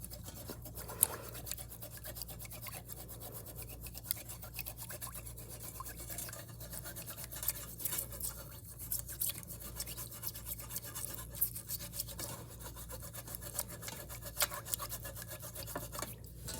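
An old toothbrush scrubs rust off a horseshoe dipped in vinegar and salt, producing quiet, continuous rasping strokes with irregular scratchy bursts, close up, with no talking.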